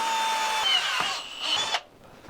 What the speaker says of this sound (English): So first I'll drill the hole for it.